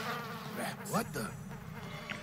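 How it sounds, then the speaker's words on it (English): A wasp buzzing loose in a shopping mall in the video game Dead Rising 4, a steady insect drone over game background noise with a brief louder swell near the middle. "There's one of Barnaby's wasps loose in the mall."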